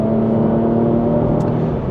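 A Porsche Macan GTS accelerates hard, a loud, steady engine drone with a rising whir heard from inside the car, continuous and close.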